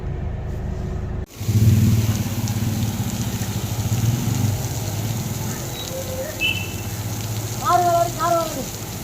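Artificial rain pours down on a television serial set with a steady, close, rushing hiss of falling water that starts abruptly, under a low engine-like rumble, with a few faint voices and brief tonal sounds near the end.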